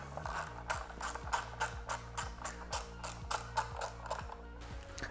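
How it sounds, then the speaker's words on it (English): A socket wrench ratchets quietly while tightening a nylock nut during reassembly of a Beretta 1301 Comp shotgun. Short bursts of clicking repeat in a steady rhythm, close and fairly faint. "As you tighten this nut up"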